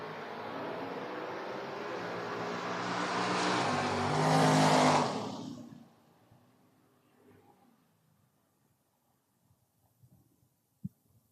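Drag race cars, a Chevy Nova and an S10, launch at a Door Wars event, engines roaring and rising loudly for several seconds before fading quickly into distance, leaving faint background noise and a few sharp clicks.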